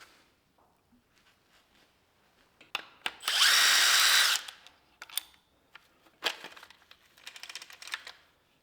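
A power tool spinning a bolt loose from a BMW N55 engine during teardown, a loud buzzing burst of about a second followed by scattered metallic clicks and clatter of parts nearby.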